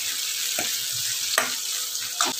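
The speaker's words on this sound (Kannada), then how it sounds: "ಟೊಮೆಟೊ, ಹಸಿಮೆಣಸಿನ್ಕಾಯಿ, ಕರಿಬೇವು ಸ್ವಲ್ಪ ಫ್ರೈ ಮಾಡ್ಕೊಳ್ಳಿ." Tomato, green chilli and curry leaves frying in hot oil with mustard seeds, giving a steady close sizzle with a few stirring scrapes, no voices.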